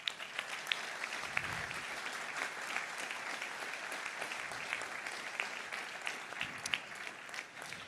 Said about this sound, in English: So let's do a round of applause for them.